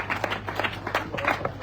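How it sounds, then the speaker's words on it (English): Graduation ceremony audience applauding, a dense patter of many hands clapping at moderate volume with a low hum beneath, brief and continuous. "I'm sure it deserves a more round of applause."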